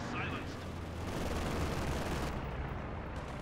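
Machine gun fire in Company of Heroes 2, a dense continuous rattle of battle noise that stays loud throughout, with a voice talking faintly underneath.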